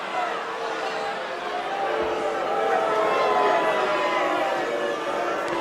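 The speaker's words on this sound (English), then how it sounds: "the crowd's booing" Crowd at a boxing match booing, a sustained broad roar of many voices swelling slightly in the middle, steady and fairly loud throughout.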